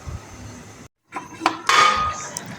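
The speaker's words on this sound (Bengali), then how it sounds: "এবার মাংসটা খুব ভালোভাবে মিশিয়ে নিব মশলার সাথে।" Chicken for a korma, with spices and yogurt, is mixed in a pot: a spoon clinks and scrapes against the metal, a brief pause, then louder clattering stirring up close.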